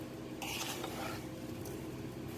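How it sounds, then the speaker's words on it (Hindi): A spoon stirs a sugar mixture in a pan over low heat while making chana panjri, a continuous close scraping and swishing with a soft sizzle underneath, no talking. "इसको चम्मच को हिलाते जा रहे हैं"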